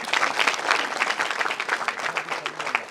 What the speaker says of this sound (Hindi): आज के हमारे मुख्य अतिथि के लिए जोरदार तालियों से स्वागत करें आप लोग।